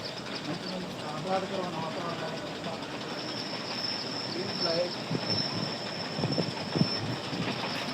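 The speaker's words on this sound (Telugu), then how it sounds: "ట్రైన్ ట్రైన్ వెళ్తూ ఉంది" A train rumbles past with rhythmic clacking of wheels and a faint metallic squeal, while people talk nearby.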